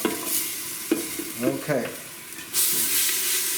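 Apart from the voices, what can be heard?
onions and garlic sizzling in oil and butter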